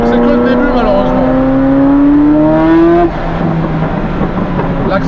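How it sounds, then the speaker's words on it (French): Turbocharged Ferrari F40 engine pulling hard, its pitch climbing steadily and then dropping at a gear change before rising again, loud and close with a steady rushing roar. "Ah, les turbos, quand ils s'ouvrent et que ça respire, c'est incroyable."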